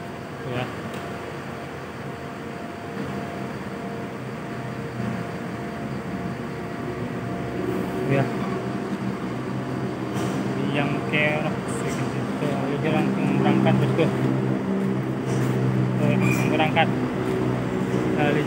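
Mercedes-Benz 1626 bus with air suspension rolling along, a steady low engine and road rumble building slightly louder over time, with people talking over it.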